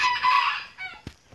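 A rooster crows once nearby, loud and drawn out, with a few shorter clucks and rustles after it.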